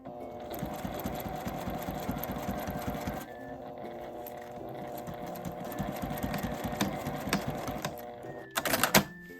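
Sewing machine stitching a laminate zip pouch with a wire opening, a steady fast mechanical whirring and needle clatter close up, easing briefly partway through and ending in a few sharp knocks.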